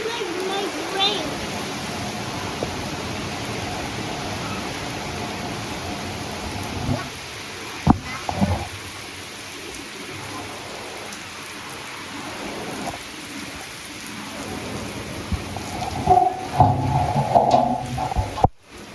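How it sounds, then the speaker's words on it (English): Heavy rain pours steadily on a hot day in the Dominican Republic, a dense constant hiss with a few brief thuds and knocks, while a voice talks briefly over it near the end. "So this is the rain in Dominican Republic."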